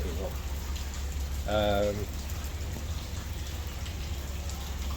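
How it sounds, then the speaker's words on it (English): Steady rain falls around a pier at Cardiff Bay, an even, close hiss of drops throughout, with a brief spoken word partway through. "the rain is just not letting"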